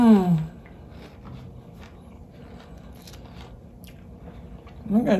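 Crunchy fried fish chewed close to the mic during a Tongan food mukbang, soft steady crunching and mouth sounds between a voice at the start and at the end.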